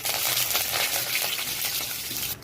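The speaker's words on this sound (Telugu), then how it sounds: "యాడ్ చేసి ఒక 30 సెకండ్స్ ఫ్రై చేసుకోండి." Urad dal, chana dal, fenugreek seeds and spices crackle and sizzle in hot oil for a pumpkin stir-fry tempering, a dense close fry that cuts off abruptly at the end.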